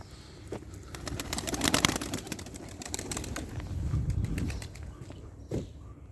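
A pet pigeon coos repeatedly, soft throaty rolling calls close by, rising and falling in a loose rhythm with some rustling and faint background noise.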